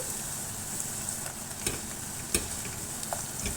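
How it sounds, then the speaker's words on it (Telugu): Onions, green chillies and ginger sizzle faintly in oil for semiya upma, a low steady hiss with a few soft clicks and taps, no one speaking. "ఉల్లిపాయలు పచ్చిమిరపకాయలు ఫ్రై అయిన తర్వాత అల్లం కూడా వేసుకోవాలి"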